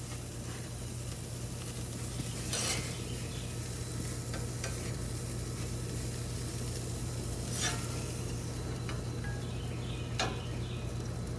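Burgers sizzle on a grill with the lid shut, giving a steady, even hiss with a few faint ticks and pops throughout.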